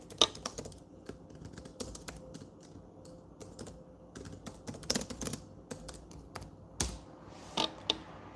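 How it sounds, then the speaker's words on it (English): Someone types a search on a computer keyboard, quick irregular clusters of key clicks with brief pauses and a few louder strokes, close and without talking. "I'm going to type into Google and see."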